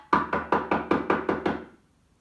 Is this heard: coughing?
no